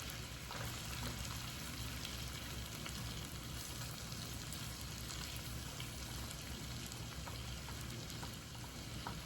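Shrimp frying in a pan for garlic butter shrimp scampi, giving a faint, continuous crackling sizzle with small pops throughout and no talk.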